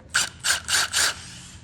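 A T30 Torx screw being backed out of a wheelchair armrest with a driver gives four short, close ratcheting scrape bursts in steady succession, with no talk.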